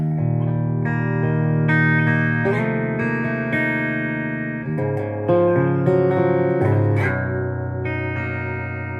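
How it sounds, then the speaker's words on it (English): A clean electric guitar tone through an EVH 5150 amp rings out in full, warm strummed chords and single notes that sustain and overlap, steady and close with no talking. "this is an incredibly usable and versatile clean sound"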